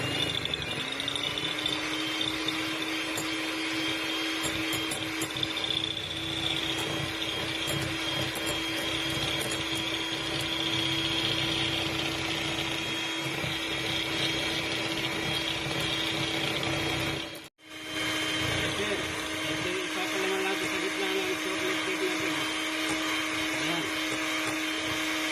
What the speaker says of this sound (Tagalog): Ka-kitchen, imimix natin itong butter natin.